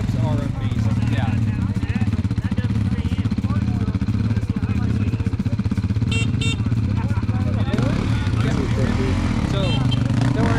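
A Beta two-stroke dirt bike is ridden at low revs with a buzzing, steady engine drone close by, while riders talk over it throughout.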